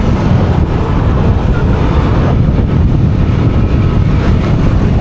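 Steady, loud engine and wind rush from a Yamaha Aerox 2024 scooter on a break-in ride along the Marilaque highway, a continuous dense roar without a break for the whole stretch.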